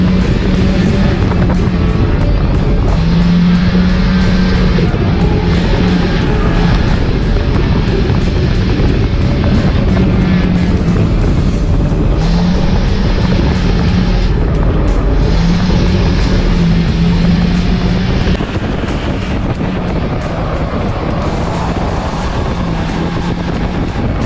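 A stock car runs flat out around the Cowdenbeath Racewall oval, its engine roaring loud and continuous with rising and falling revs as other cars pass.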